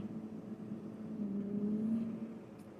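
Diesel engine of a JCB 505-20TC telehandler runs nearby with a steady low drone and a hum that rises slightly midway, no talking.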